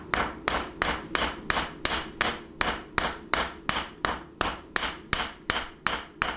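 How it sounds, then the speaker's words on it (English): A cross peen hammer strikes hot steel on an anvil while a hidden tang knife is hand forged, about fifteen sharp, ringing blows at an even, brisk pace, each decaying quickly, close and loud with no talking. "We want to start hitting in that area with this"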